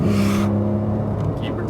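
A Porsche 911 GT3 accelerates on a racetrack, its engine holding a strong steady tone under a voice speaking, then dropping away sharply as it lifts off.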